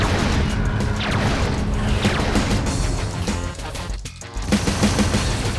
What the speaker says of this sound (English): Okay, now my weapon's firing.